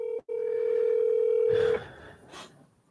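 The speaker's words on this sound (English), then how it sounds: "Somebody keep blowing up my phone from Florida." Phone tone from an incoming call, a single steady loud electronic tone held for about a second and a half after a brief break, then cut off, followed by faint rustling.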